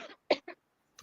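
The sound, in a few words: coughing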